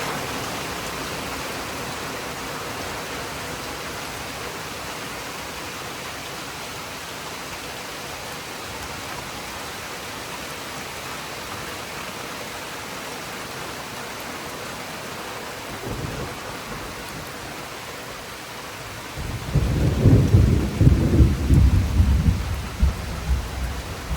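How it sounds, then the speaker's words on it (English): Heavy rain falling steadily on a rural property, a continuous hiss, with a brief rumble of thunder near the end rising into a louder, rolling peal. "It rained and rained and rained and rained."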